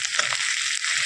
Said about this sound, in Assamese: অলপ সুন্দৰভাৱে আদা নহৰু পেষ্টখিনি অলপ ভাজি ল'ব।